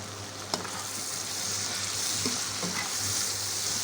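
Capsicum and onion sizzle as they fry in a pan, a steady close hiss broken by a few scraping stirs of a utensil.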